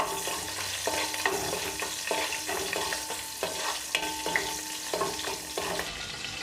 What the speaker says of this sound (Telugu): ఇప్పుడు వీటిని సిమ్లో కాసేపు వేగనివ్వాలి.